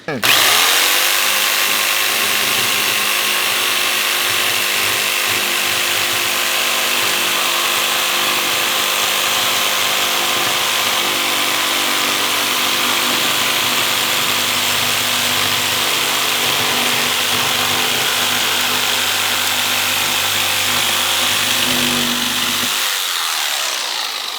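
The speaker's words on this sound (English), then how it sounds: "use a jigsaw to cut out that arch" A jigsaw cuts an arch into a wood fence panel, a loud, close, continuous buzzing rasp of the blade through wood lasting over twenty seconds before the motor stops.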